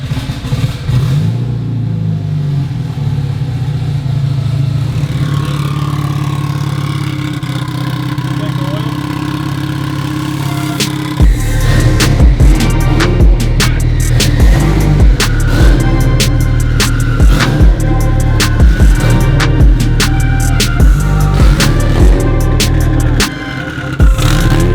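Mitsubishi Evo 8 engine idling with a deep, steady rumble, then louder and rougher as the car pulls away and revs in pulses, close by, with people talking over it.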